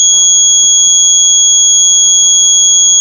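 A homemade security alarm circuit sounds continuously, a loud, steady piercing electronic buzzer tone held without a break over faint background noise.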